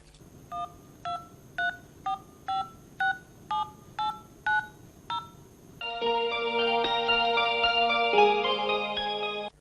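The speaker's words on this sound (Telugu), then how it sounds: "వెంటనే డాక్టర్కి ఫోన్ చేయండి" A telephone is dialed to call a doctor: ten evenly spaced keypad tones beep one after another, then a steady ringing tone takes over and runs to the end, clear and close.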